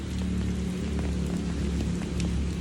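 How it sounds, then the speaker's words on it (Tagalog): Heavy rain pouring down steadily in Kaligutan, a dense continuous wash of drumming that stays loud and close for the whole stretch, with no voices. "Ulan kaayo."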